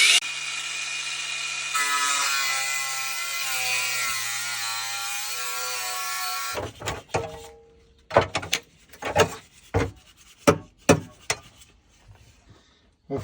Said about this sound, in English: Sanding down the bushings.